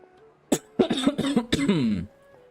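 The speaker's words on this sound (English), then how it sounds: "that actually makes me cough every time I do that" A single sharp cough followed by a burst of rough, voiced throat-clearing coughs, close and loud, then quiet.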